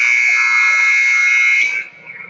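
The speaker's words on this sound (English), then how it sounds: "that is the buzzer to get the second half started" A loud, steady electronic buzzer blares at a North Rink hockey game between the Green Giants and the Blue Ox, holding for nearly two seconds before cutting off and leaving faint arena murmur.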